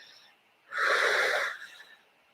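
One long, audible breath exhaled through the mouth during 4-7-8 breathing, a breathy rush of about a second that fades into quiet.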